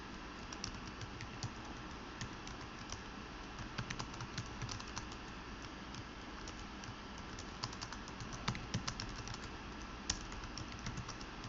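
Computer keyboard typed on rapidly while writing C code on a Linux system, a steady stream of close, light clicking keystrokes with small bursts throughout.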